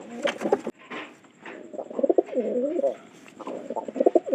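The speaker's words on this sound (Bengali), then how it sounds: "পাড়িটাও কিন্তু ডাকতেছে" A female pigeon coos in soft, throaty repeated bursts close by, with a few rolling warbled phrases and brief pauses between calls.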